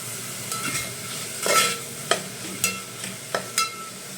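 Onion with salt frying in a little oil, a steady soft sizzle broken by several sharp scraping stirs of a spoon against the pan, close up with no talking.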